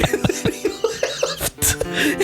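A cough comes over a phone call, short harsh bursts repeated several times in quick succession, slightly muffled and thin, with a brief laugh-like breathiness between them.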